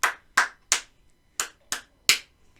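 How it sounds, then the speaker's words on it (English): Children in a Year 2 and 3 music lesson clap a short rhythm: six sharp, distinct claps in an uneven short-and-long pattern, close and clear with no talking over them. "Let's clap it."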